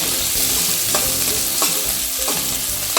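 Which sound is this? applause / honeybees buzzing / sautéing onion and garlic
sautéing onion and garlic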